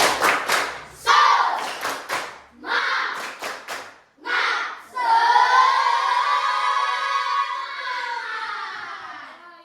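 A class group performs a rhythmic spirit clap, sharp clustered claps in quick bursts separated by short pauses, followed by a long sustained shout or cheer from the group.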